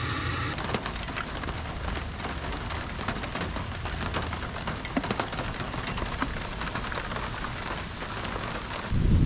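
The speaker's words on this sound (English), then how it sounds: "Of course, it would start raining." Steady rain patters and hisses on surfaces, a dense continuous wash of drops, moderately loud with no talking.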